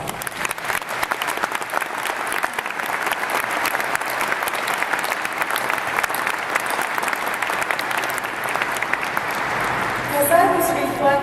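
A commencement crowd applauds continuously to honor priests and educators, a dense, sustained wash of clapping that swells slightly near the end.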